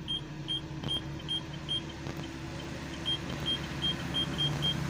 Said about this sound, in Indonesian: Alarm juga ada bunyi.